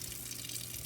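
Water runs steadily from a tap while soap is rinsed out of a paint brush, a close, continuous gushing hiss with no pauses.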